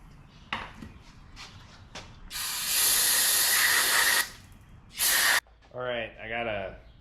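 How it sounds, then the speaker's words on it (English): Brake cleaner sprayed onto the steering parts of a 1980 Ford Courier, in several loud hissing bursts, one long blast of about two seconds followed by a shorter one, with brief clicks and a voice speaking at the end. "I'll hit it with some brake clean"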